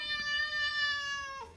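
A cat gives a single drawn-out meow, sustained and tonal, ending with a quick downward bend, fairly close against a quiet background.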